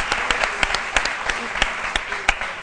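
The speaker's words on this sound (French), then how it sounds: "on applaudit pour Philo." Audience clapping after a dance contest result, a thin scattered round of distinct claps with several sharper individual hits spaced irregularly.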